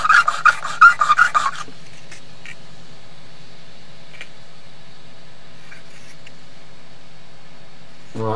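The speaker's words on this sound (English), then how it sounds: "this is about a 2000 grit diamond stone" A hand engraving graver is sharpened on a slightly worn 2000 grit diamond stone, giving a quick burst of several close, gritty rasping strokes for about a second and a half before near silence.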